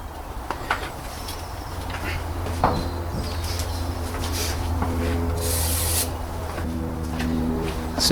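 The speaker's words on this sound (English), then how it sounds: "Just taking the opportunity that the coolant has come out of the area to clean those hoses a little bit." Close rubbing and wiping on the coolant hoses of a Mercedes CLK W-series car, a steady scrubbing texture with occasional small knocks and a brief spray-like hiss, over a low constant hum.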